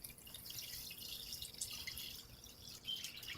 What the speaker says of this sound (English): And pour it back through again.